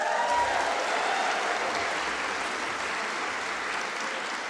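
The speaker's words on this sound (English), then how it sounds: "Big round of applause." Applause from graduands and guests at a Melbourne Polytechnic graduation ceremony, a broad, even rush of many hands clapping in a large hall that fades slightly toward the end.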